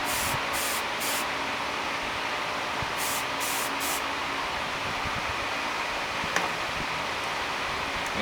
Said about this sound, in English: you hold this off of the bug, that way the spray goes around